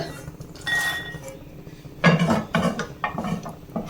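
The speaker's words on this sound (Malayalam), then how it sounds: "ഇത് നമുക്ക് ബൗളിലേക്ക് മാറ്റാം" Roasted almonds and a snack mix are tipped into a bowl with a rattle of small hard pieces and clinks against the dish, in two or three close, moderately loud pours.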